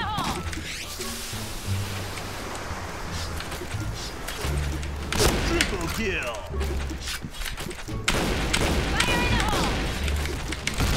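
Explosions and gunfire in the battle royale game PUBG, with heavy booms and sharp blasts landing repeatedly over about eleven seconds, loud and close, with someone talking excitedly over them.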